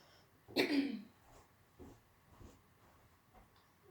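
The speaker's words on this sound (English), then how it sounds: "Suddenly developed a cough." A single loud cough bursts out nearby, followed by quieter breathing and faint shuffling.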